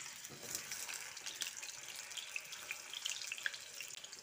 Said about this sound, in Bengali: এবার গরম তেলে আলুগুলো ছেড়ে দিচ্ছি।